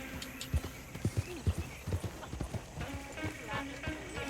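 Hooves of a horse-drawn coach in the video game Red Dead Redemption 2 clip-clop in a steady, fairly close rhythm, with wheels rumbling underneath and a voice calling out over the trotting.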